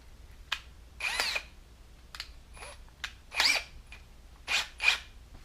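A power drill bores through the metal box of a forge under rebuild, in several short high-pitched bursts separated by pauses, fairly close and moderately loud.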